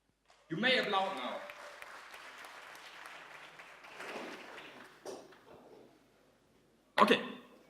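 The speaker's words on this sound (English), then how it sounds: "You may applaud now." Conference audience applauding at an agile software event, a burst of clapping swelling up then tapering under murmurs, with a short second flurry near the end.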